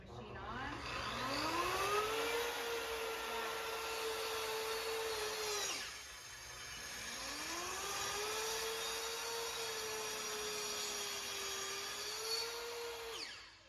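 A track saw runs through material guided along its track in a makerspace, a loud steady whine that rises as the blade spins up, drops briefly near the middle, then resumes and holds before winding down. No one speaks.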